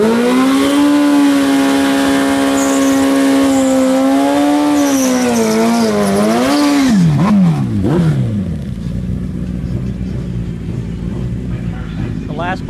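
A racing motorcycle accelerating down a drag strip in Central Florida gives a loud, rising engine howl that climbs for several seconds, then swoops downward in pitch as it passes and fades into the distance.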